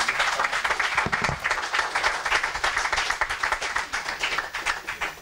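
A church congregation at a New Year's Eve service applauds and cheers in praise of Jesus, with dense, continuous clapping from many hands filling the room and faint voices mixed in.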